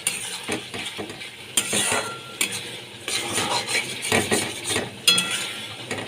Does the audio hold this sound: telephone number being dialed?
no